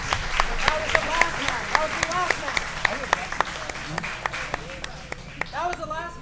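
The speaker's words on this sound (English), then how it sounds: "I thought we were just clapping for Anthony" Crowd applause and clapping at a 10th Planet grappling match event, a dense run of sharp hand claps with cheers and whoops mixed in, steady and lively across the whole stretch.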